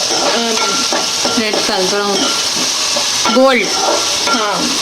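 Cut onions sizzle in a pan as a utensil stirs and scrapes them in repeated strokes, with a person talking over the cooking throughout.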